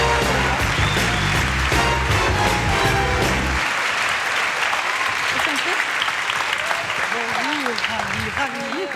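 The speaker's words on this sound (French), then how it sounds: "Applaudissements maintenant, merci." Studio audience applause on a French TV variety show, with dense clapping loud at first, then thinning and fading while a host's voice comes in over the dying applause.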